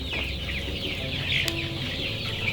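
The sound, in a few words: chickens clucking on a poultry farm, 8 weeks old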